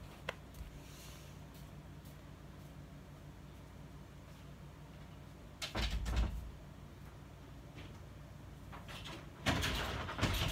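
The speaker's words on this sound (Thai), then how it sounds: "ปิดประตูครับ" A door closes indoors in a quiet room, giving two short, moderately loud bumps around six and ten seconds against faint background hiss, with no talking.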